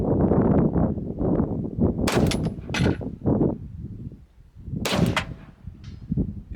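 Rifle shots ring out outdoors in irregular succession, each sharp crack followed by a bright metallic ding as rounds strike steel targets, with a few louder, closer shots standing out.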